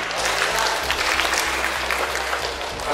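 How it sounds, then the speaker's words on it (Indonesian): Audience applause fills a public consultation forum held by the Subang regency government and DPRD, a dense, steady clapping that carries at even loudness for the whole stretch with no voices over it. "Tepuk tangan Pak."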